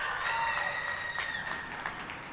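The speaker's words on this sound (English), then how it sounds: "you heard everyone in this crowd gasp when it hit that rim" A high school girls' basketball crowd, Cortland Purple Tigers at Jamesville-DeWitt Red Rams, gasps in the closing seconds as a shot hits the rim: a loud, sustained wash of crowd noise that eases slightly toward the end.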